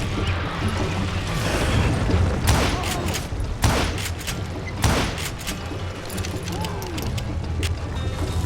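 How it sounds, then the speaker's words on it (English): Dynamite blasts go off in the Wild West shooter Call of Juarez: Gunslinger, several sharp, loud bursts spaced a second or so apart over a rumbling, clattering battle backdrop. "Who said you could throw dynamite?"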